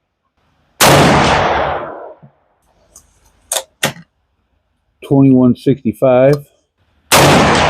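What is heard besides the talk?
gunshots from a 400 Legend Winchester factory load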